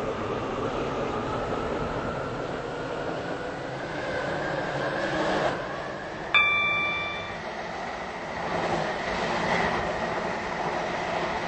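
A train in the Roblox game Stepford County Railway rumbles steadily along the track with a low continuous roar, a sudden metallic squeal and ringing tones cutting in briefly partway through.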